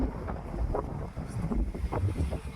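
Strong wind buffeting the microphone in heavy, uneven gusts, low and rumbling throughout.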